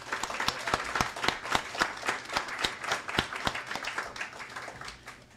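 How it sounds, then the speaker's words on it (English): A livestreamed mixer audience gives its founding principals another round of applause, sparse and distinct hand claps from a small gathering, fairly crisp and steady before thinning and fading out toward the end. "Let's give our founding principals one more round of applause"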